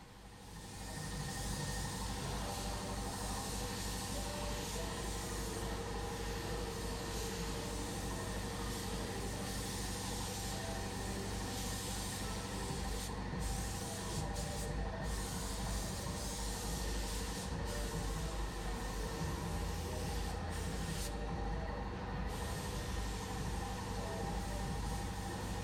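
A steady, continuous hiss of a spray gun laying down car paint, running unbroken and fairly loud throughout against a low machine hum.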